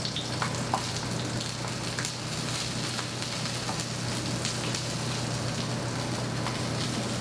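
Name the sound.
salmon frying skin-side down in a pan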